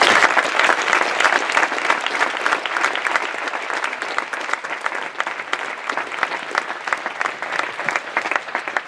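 A big round of applause from students fills the room: dense, steady clapping from many hands that holds strong for nearly nine seconds and thins slightly toward the end, with no talking over it.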